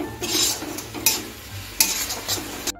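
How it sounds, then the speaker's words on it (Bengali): Spices stir-fried with a splash of water in a pan over medium heat for a Bengali katla fish dish, with soft sizzling broken by a few sharp utensil scrapes against the pan, close, no voices. "অল্প একটু জল দিয়ে দিচ্ছি, দিয়ে ভালো করে একটু কষিয়ে নিচ্ছি।"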